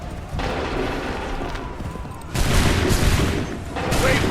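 Musket volleys crackle in Assassin's Creed III, a dense sustained fusillade of overlapping shots that grows louder and heavier midway, loud and close with no pauses.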